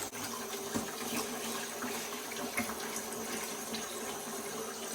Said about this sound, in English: So now Celia has rinsed them off with cool water